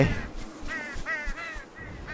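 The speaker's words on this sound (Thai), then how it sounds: "ไออีกาบ้า" A crow in the game Unravel gives a string of harsh, raspy caws, five or six calls in quick, uneven succession at moderate volume.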